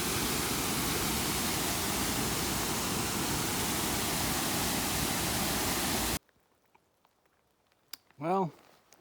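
Roaring waterfall near Green Mountain in the Rockies, a loud, dense, unbroken rush for about six seconds that cuts off abruptly into quiet, followed by a brief faint voice.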